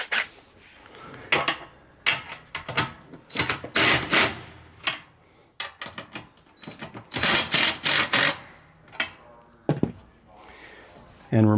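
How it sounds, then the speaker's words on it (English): Bolts on the upper arm of an attic lift being loosened with a tool, producing a run of sharp metallic clicks and ratcheting bursts in uneven clusters, close and fairly loud. "So we're going to loosen the bolts on this upper arm."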